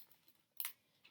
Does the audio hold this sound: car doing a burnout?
no